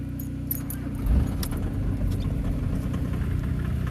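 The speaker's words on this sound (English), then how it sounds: "got a nice little cold start with mine this week too" Diesel car cold-starting after its glow plug warms, with a steady low, rough idle throbbing close by, a brief surge just past the one-second mark and small metallic clinks above it.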